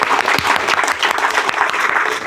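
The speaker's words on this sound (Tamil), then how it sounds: "கைதட்டுங்க" Students in a classroom presentation session clap their hands in a short burst of applause, a dense, close wash of claps lasting a couple of seconds.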